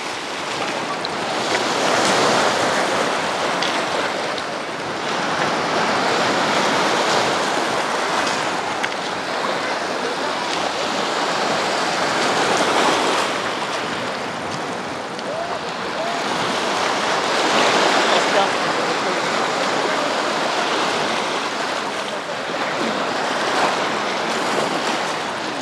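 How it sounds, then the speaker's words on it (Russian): Sea surf rolls onto the beach at Anapa, broad roaring wash rising and falling in slow surges, with wind buffeting the microphone throughout. "чтобы меньше прибой ощущался, можно сделать вот такое заграждение"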